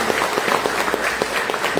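A church congregation applauding during a service: brief, loud clapping from many people with a few distinct rhythmic claps standing out over the crowd's wash.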